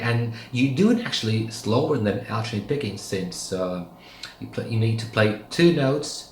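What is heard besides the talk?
No everyday noises stand out.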